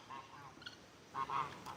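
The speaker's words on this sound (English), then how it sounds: "I love these geese." Geese at an animal sanctuary give a few short, nasal honks close by, the loudest near the end of a brief burst, with no voices.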